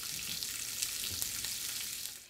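Lamb chops sizzling loudly in a screaming hot pan, a steady bright crackle and hiss with occasional pops, fading out at the very end.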